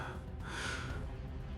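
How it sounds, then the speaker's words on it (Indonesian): Breathing sound effect in a horror narration: a single soft, breathy gasp or exhale, close and quiet, heard on its own. "Suara napas itu muncul tepat di lehernya."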